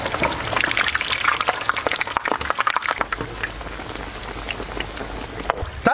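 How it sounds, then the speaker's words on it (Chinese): Pork meatballs for lion head rolled and dropped into a wok of moderately hot oil, sizzling and crackling steadily in a dense, close spitting hiss that fills the whole stretch with no talk over it. "油温五成热，搓成圆子下锅。"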